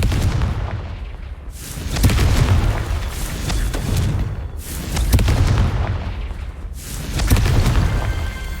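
Three deep booming blasts from the Confringo fire spell in Hogwarts Legacy, spaced a few seconds apart, each a loud low rumble with crackling tails over continuous game ambience.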